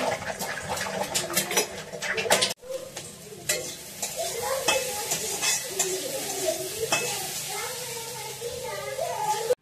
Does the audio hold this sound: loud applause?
no